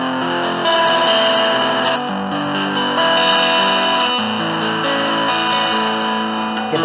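Electric guitar runs through an IK Multimedia iRig Nano Amp with the bright setting on at three-quarter gain, giving thick, driven chords that ring out continuously, loud and saturated with effects, and no voices come through.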